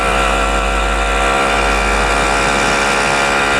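Simson S51 moped with a freshly rebuilt engine, new bearings and seals, droning steadily while riding, loud and close with constant engine hum and wind, no talking.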